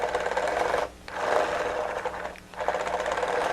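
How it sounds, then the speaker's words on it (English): A small electric motor whirs to open and close a claw, a close, loud whine running in three bursts separated by two short pauses. "when I rotate the motor, the claws open"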